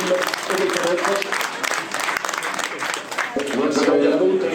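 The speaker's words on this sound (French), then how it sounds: "Merci de l'applaudir une nouvelle fois, Kevin." Audience at a cycling club's season presentation evening clapping in a sustained, fairly close round of applause, with a voice talking over it.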